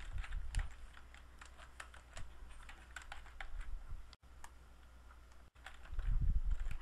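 Typing on a computer keyboard during Photoshop Elements work, quiet rapid key clicks in uneven bursts with brief pauses, close and faint.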